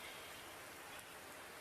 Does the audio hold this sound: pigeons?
no